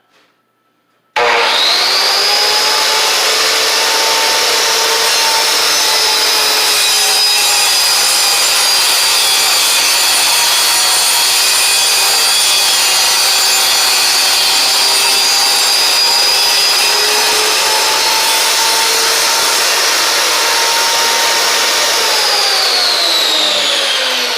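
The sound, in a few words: vertical panel saw cutting wood cabinet panel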